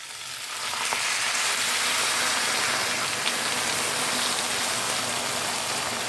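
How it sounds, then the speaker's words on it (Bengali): Water is splashed into frying vegetables in a hot pan, the sizzle swelling after a quieter start into a loud, dense, rain-like hiss that holds steady close by, with no speech. "হালকা করে জল দিয়ে দেওয়া হচ্ছে।"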